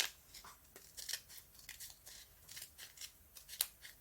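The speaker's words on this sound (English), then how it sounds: "Then I'm going to cut off the extra stickers" Scissors snipping through a sheet of extra stickers, a close series of quick, crisp cuts in an irregular rhythm, heard alone without talk.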